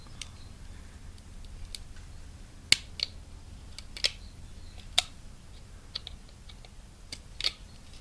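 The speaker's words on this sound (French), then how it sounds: "je vais y aller au cutter" A utility knife trims a notch for a fishing lure's lip, making sparse, sharp little clicks and snaps at irregular intervals against a quiet background.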